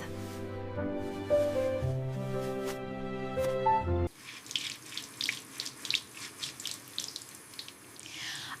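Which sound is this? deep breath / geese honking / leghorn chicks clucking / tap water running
tap water running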